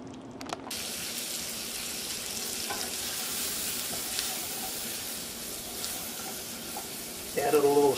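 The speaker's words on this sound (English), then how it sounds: "Saute some fresh vegetables." Fresh vegetables sautéing in a pan give a steady, close sizzle and hiss that runs for the whole stretch, with a brief clatter of utensils near the end.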